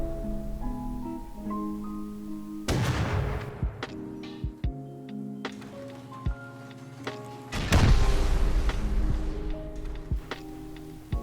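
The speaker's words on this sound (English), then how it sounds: "that is the sound of all of my turrets turning off" Base defence turrets in the Rust survival game powering down during a night raid after raiders destroy the battery: a dense sequence of tonal electronic shutdown whines and ticks, punctuated by loud thuds and two heavy blasts.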